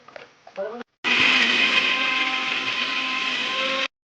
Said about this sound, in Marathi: आता आपण याला मिक्सर लावून घेऊया